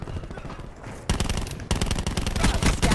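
Rapid automatic gunfire in Black Ops 4, loud, dense bursts that get heavier after the first second and run continuously to the end, with no talk over it.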